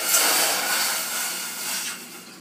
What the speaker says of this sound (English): Pour it into the saucepan.